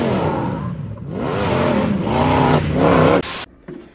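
Supercharged, direct-injection 700 hp Buckshot Racing Baja Bug engine revving hard, its pitch sweeping up and down in several loud, close bursts before a sharp cutoff.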